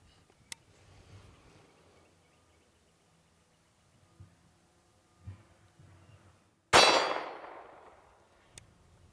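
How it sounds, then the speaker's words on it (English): A pistol is fired at a steel target that has a small bag of tannerite taped to it. One loud, sharp shot lands with a ringing metallic clang that decays over about two seconds, with faint small knocks before and after. "So I'm gonna go ahead and shoot it with a pistol and see what we get."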